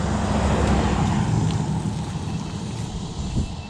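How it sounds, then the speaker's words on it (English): A car passing on the road close by while standing beside a 16-year-old BMW 1150 RT motorcycle, a steady broadband roadway rush that swells early and then slowly fades as it moves away, with no talking. "Just let this car go past."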